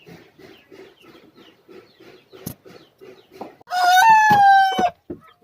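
Chickens of a Siamo and Rhode Island mix cluck in a steady soft series, then one rooster lets out a loud, close crow lasting about a second.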